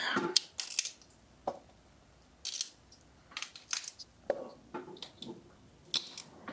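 Roselle hibiscus calyx pieces peeled back off the immature seed pod by hand, producing sharp close snaps and crisp tearing bursts at irregular intervals, with short quiet gaps between them.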